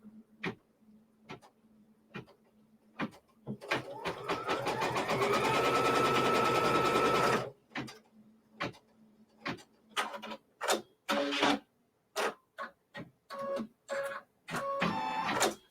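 A sewing machine stitches quilt block pieces, with a steady whirring run of a few seconds set between many sharp ticks, clicks and short mechanical bursts of handling, close and alone, with no talking.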